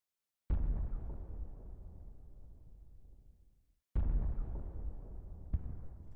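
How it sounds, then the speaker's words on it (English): Artillery cannons firing in a Civil War strategy game: deep booming blasts, each with a long rumbling decay, the second quickly followed by another report, loud and close with no talk. "these cannons are already beginning to open up"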